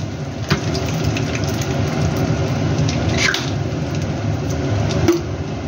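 A little white cooking oil poured over ghee in a hot kadai sets off a continuous, close sizzle, a dense rain-like hiss with occasional sharp pops.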